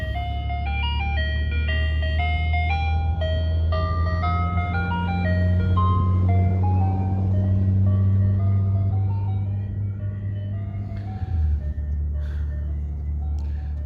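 An ice cream truck drives past playing its jingling chime melody over a low engine rumble, the tune fading away as the vehicle passes.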